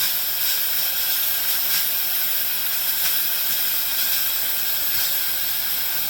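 Steam hisses loudly and steadily from a pressure cooker being opened step by step, a continuous broadband rush with faint pulses.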